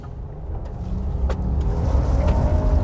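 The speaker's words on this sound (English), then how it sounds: "Okay, great, and full throttle." Steady low engine drone of a 2019 Honda Ridgeline pickup pulling at full throttle on an off-road track, building gradually in loudness with a rising tone and no voices.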